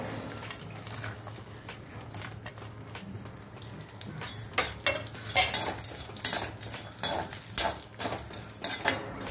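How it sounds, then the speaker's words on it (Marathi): Sliced almonds, cashews and walnut pieces frying in a pan while being stirred, with irregular scrapes and clinks of the spoon against metal over a soft, steady sizzle. "सगळं आपण तळून घेऊया."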